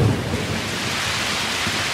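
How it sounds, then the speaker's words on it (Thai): Heavy rain pours steadily with a deep rumble of thunder, a loud, dense wash of sound with no voices. "ฝนตกอีกแล้ว"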